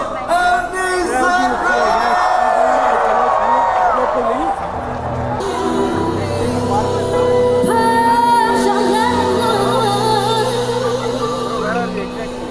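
A crowd at a Merdeka Independence Day celebration in Kuala Lumpur cheers, whoops and claps for singer Anissa, a loud dense roar with shouts sustained throughout while voices chatter amid the noise.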